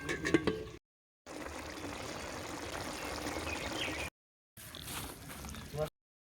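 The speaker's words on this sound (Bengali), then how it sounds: "এবার 2 মিনিট ঢাকা দিয়ে ওটাকে ফুটিয়ে নামিয়ে নেব।" Rui fish in mustard gravy bubbles under a lid, a steady close simmering hiss with soft liquid gurgles, broken by brief silent cuts and a little rattling at the start.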